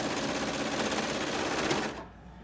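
A sewing machine stitches a skirt with a fast, even, continuous mechanical whir heard close up, then stops abruptly near the end.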